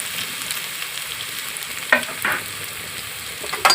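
Onions and green chilies frying in oil for a chicken curry: a steady close sizzle with a few louder stirring scrapes near the end.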